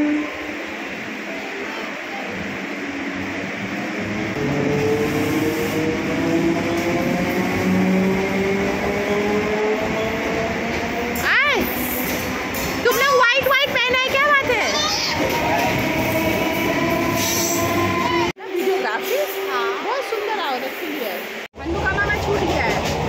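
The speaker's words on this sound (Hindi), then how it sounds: "तो ये है कोलकाता का लोकल ट्रेन जिसमें कि हम लोग जाएंगे।" A Kolkata local commuter train rumbles along steadily with rail clatter and brakes squealing, while voices and children chatter throughout inside the carriage.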